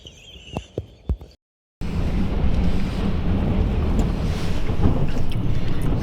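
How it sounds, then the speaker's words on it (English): Strong wind blowing outdoors buffets the microphone with a loud, steady low roar after a few brief knocks and a moment of silence. "It's quite windy here."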